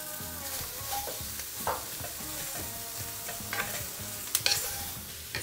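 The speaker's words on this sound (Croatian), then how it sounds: "stavljamo povrće i isto tako pržimo na visokoj temperaturi da se sve fino malo karamelizira" Vegetables fry at high heat in fat, giving a soft, steady sizzle beneath repeated stirring and scraping in the pan, with a few sharp clinks near the end.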